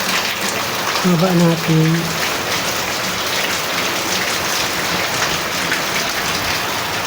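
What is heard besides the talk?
heavy rain falling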